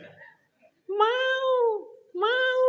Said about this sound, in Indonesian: Kucing hoyong kawin tah.